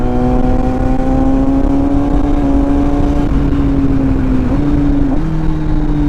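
A motorcycle rides along a road with a steady engine hum and droning tone that shifts slightly in pitch, backed by constant wind and road noise and no talking.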